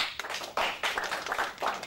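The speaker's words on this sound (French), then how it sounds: "demande d'applaudir aussi Ousmane Traoré." Audience applause at the launch ceremony of a network, a short burst of claps at moderate distance, somewhat faint with a few louder surges.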